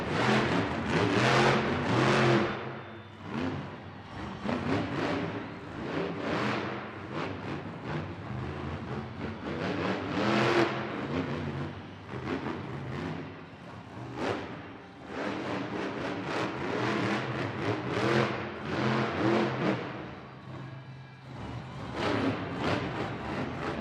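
A monster truck engine revs in repeated loud surges and drops through freestyle two-wheel skills moves at a Las Vegas Monster Jam arena event, over a constant wash of crowd noise.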